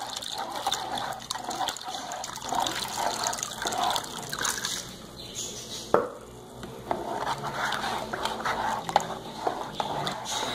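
Water poured into a homemade bread dough mixture in a bowl, a continuous trickling and splashing with occasional knocks and mixing sounds, close and moderately loud.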